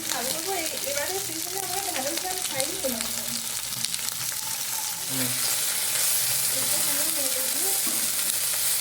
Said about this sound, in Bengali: ঢ্যাঁড়স ভাজাটা হতে হতে